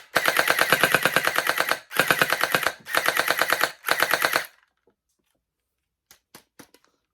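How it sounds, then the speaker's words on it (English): A Ferventoys Holiday SS21 gel blaster fires gel rounds in long rapid full-auto bursts, three or four close loud strings of shots, followed by a few faint separate pops. "I do notice that some of the rounds are exploding upon exiting the barrel"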